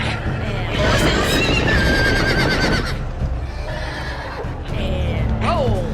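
Horses neighing and whinnying in a Game of Thrones video game, loud repeated whinnies over a dense din of hooves and battle noise, with a voice talking over part of it.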